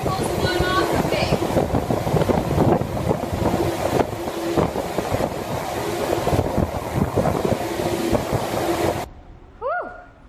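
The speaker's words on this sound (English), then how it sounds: "This is what it's like in the air shower, getting all the particles blown off of me." Strong continuous rushing air blasts over a person inside a cleanroom air shower, a loud steady roar that cuts off abruptly near the end, followed by a couple of brief faint tones.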